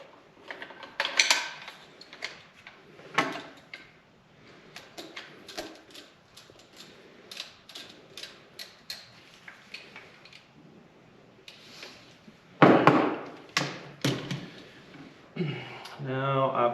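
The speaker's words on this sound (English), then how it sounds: "That mag well out, my 338 mag well goes in." A mag well being swapped on a Cadex Kraken multicaliber rifle gives close metallic clicks, scrapes and taps, intermittent and mostly quiet, with a louder clatter near the end, while someone talks throughout.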